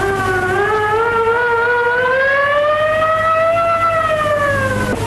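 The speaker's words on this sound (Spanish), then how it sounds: "la sirena de una ambulancia puso en pie a toda la guardia" An ambulance siren wails steadily in a continuous rising and falling tone, loud and close, alone with no voices over a low background rumble.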